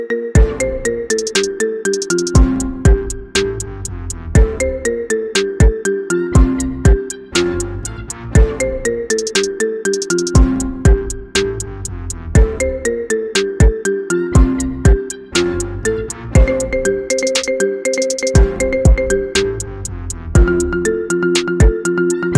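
Marimba remix of an iPhone ringtone, loud and upbeat, with bright mallet notes in a repeating melodic loop over a steady beat, playing alone without any voices.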